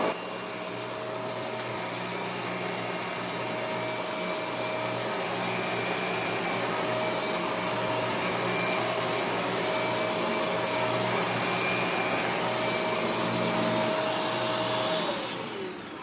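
A Monroe vacuum cleaner runs with its brush roll spinning, giving a loud, steady motor whine and whir that holds for about fifteen seconds before winding down at the end. No one speaks.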